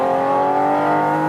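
Naturally aspirated flat-six of a Porsche 718 GT4 RS revving hard on a race track, a loud, steady rising engine note with rich harmonics filling the whole short burst, no talk over it.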